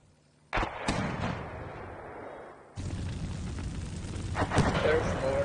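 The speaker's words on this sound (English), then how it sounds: "There's mortars." Mortar rounds landing in the tank combat game Steel Beasts Pro, a heavy rumbling blast that rises abruptly, dips, then swells again into sustained booming with sharp cracks near the end, under a low battlefield drone.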